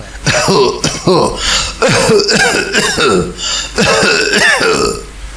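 A man coughs hard and repeatedly in close, harsh bursts with brief gasps between them, a throaty fit of coughing up close.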